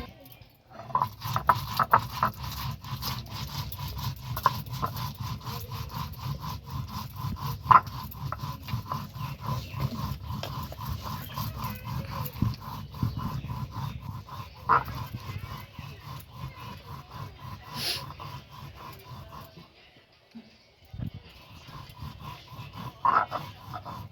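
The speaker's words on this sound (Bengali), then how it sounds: "এখানে ধনেটা আর জিরেটা ফিনিশ করে বেটে নিচ্ছে" Coriander and cumin are ground on a traditional grinding stone: a steady rhythmic rubbing and scraping of stone on stone, close and continuous for most of the stretch, with some soft talk in the background.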